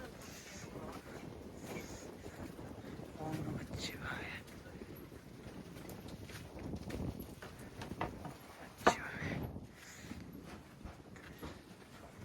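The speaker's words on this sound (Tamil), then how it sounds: "செம்ம காற்று." Strong mountain wind on the Velliangiri hills trek buffets the microphone in a low, uneven roar with gusty surges, and people speak faintly under it.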